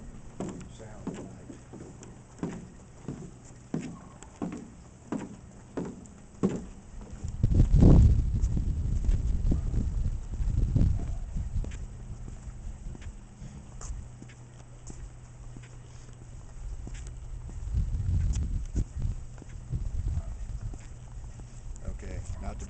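Footsteps on a wooden boardwalk at night in Tombstone knock in a steady walking rhythm, hollow and close, with a few heavier thumps and a voice talking through part of it.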